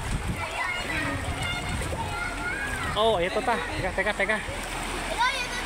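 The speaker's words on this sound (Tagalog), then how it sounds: "Masyadong malakas ang alon na to." Floodwater waves splash and churn continuously on a flooded street between Makati and Santa Ana, Manila, while people talk and call out excitedly close by.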